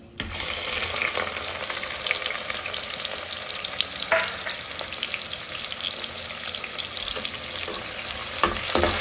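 Sliced onions sizzle steadily in hot ghee while ghee rice is being cooked, a dense close-up crackle with faint stirring scrapes and a few louder pops; nobody speaks.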